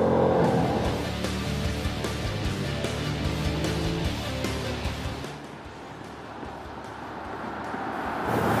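A 2014 Dodge Challenger's engine revs and roars through a drift, its pitch rising and falling in surges over road noise, then easing off briefly before climbing again near the end.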